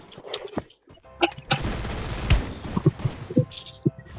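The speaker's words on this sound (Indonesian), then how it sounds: "Oh, Rasha ya yang nembak ya?" Video game gunfire crackles in short bursts, a loud close fusillade of several shots mixed with game effects.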